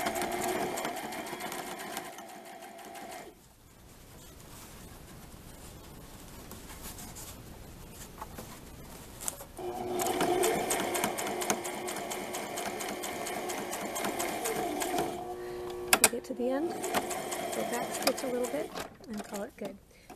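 A sewing machine runs steadily while stitching an elastic casing on a dirndl blouse with a square neckline, with a brief pause and a short reverse before it resumes, a near, even mechanical whirr.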